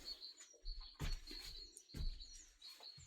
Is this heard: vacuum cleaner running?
no